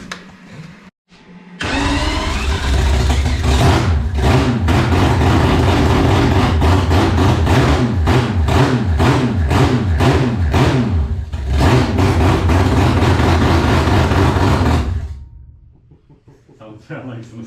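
A Mazda RX7 with a four-rotor engine and no exhaust fitted runs very loud and raw, revving and holding a harsh, buzzing roar for about thirteen seconds before cutting back, with faint voices before and after.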